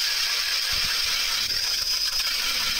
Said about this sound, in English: This is that DeWalt 20 volt with that Clam ice auger.